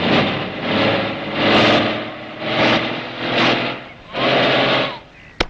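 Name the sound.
vehicle engine running but not moving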